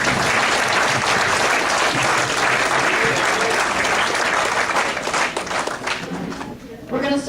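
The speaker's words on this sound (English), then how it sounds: "let's give a I don't know how to say that, round of applause for their hard" Sustained applause from a banquet-hall audience at an awards banquet fills the whole stretch, dense and loud, with scattered voices mixed in and thinning slightly near the end.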